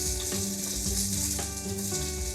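Onion and butternut squash fry in a pan with a loud, continuous sizzle close up, with a few soft scraping stirs breaking through.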